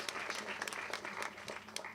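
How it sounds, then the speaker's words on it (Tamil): A crowd at a school movie audio launch claps in brief, uneven bursts, a light patter of hand claps heard at moderate distance. "கைத்தட்டுங்க."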